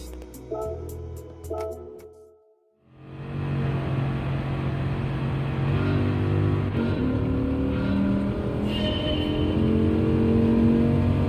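A Dodge Viper racing at Laguna Seca in Gran Turismo 7: after a few short clicks and a brief pause, a loud continuous engine roar rises and holds, revving steadily at high pitch through the run.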